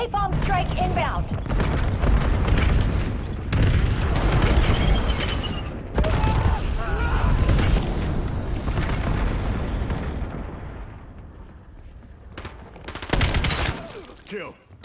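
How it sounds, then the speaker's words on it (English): Napalm strike in Black Ops 7: repeated heavy booming blasts and crackling fire roll through dense game combat, with gunfire and shouted voices mixed in, building loud and then tapering off toward the end. "Napalm strike inbound."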